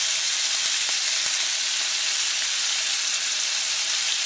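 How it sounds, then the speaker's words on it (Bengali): Golda prawns sautéing in oil with salt and turmeric give a loud, continuous, close-up sizzle, a dense steady hiss that holds evenly throughout with only faint stirring ticks underneath and no talking. "আমি চিংড়ি মাছটা সাঁতলে নিয়েছি সমস্ত"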